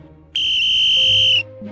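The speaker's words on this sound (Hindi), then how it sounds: "सीटी बजाते हुए उसका पीछा कर रहे थे" A police whistle is blown during a chase through a lane: one loud, shrill, sustained blast lasting about a second, heard alone and close up.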